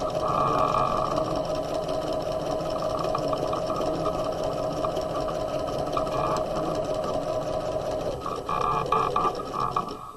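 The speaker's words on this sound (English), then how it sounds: "we're going to back stitch, and then we're going to stitch to the edge" A sewing machine runs steadily, stitching a tote bag lining with a backstitch and then along the edge, its motor a continuous close hum and rapid needle clatter with no pauses.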